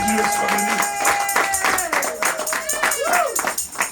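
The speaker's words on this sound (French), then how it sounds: "Applaudissons pour Jésus." A church congregation claps for Jesus during a French-language service, a quick run of rhythmic handclaps beneath sustained singing or chanting voices.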